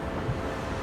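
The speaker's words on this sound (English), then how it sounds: "There's a big waves coming." Waves breaking on a beach near a Disneyland hotel, a steady broadband wash of surf mixed with wind buffeting the microphone, continuous and fairly loud with no talk.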